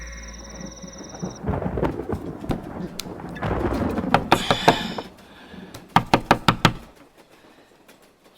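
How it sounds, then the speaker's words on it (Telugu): A quick run of about five sharp knocks on a door, close and loud, follows a rumbling, storm-like stretch of noise in a dramatic film scene, then stops into quiet. "ఎవడో తలుపు కొడుతున్నాడు, వెళ్ళి చూడు."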